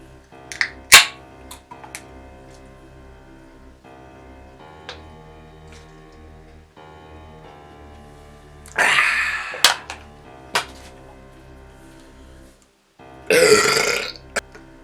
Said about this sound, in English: We're going to shotgun this beer